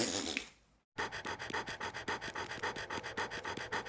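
A dog pants hard in the horror video game Ju-On: The Grudge, with a steady run of quick rhythmic breaths, close and fairly loud, after a brief burst of noise and a short silence.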